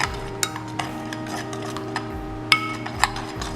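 Sugar is mixed into a fish marinade in a bowl, mostly a soft steady stirring with a few sharp clinks of a utensil against the bowl.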